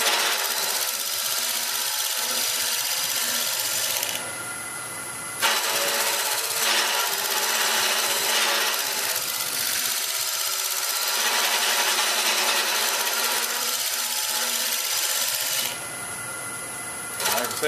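Abrasive smoothing inside a mesquite hollow vessel on a woodturning lathe makes a steady, loud rasping whir that drops away briefly twice before resuming, close up.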